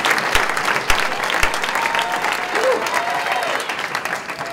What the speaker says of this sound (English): Please give a round of applause for Jason Antonick.